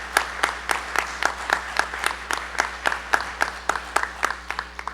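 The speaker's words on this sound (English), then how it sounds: "I want to get a round of applause for these guys right here" Slow, rhythmic clapping from a small group at a school board meeting, with distinct evenly spaced claps over a low steady hum.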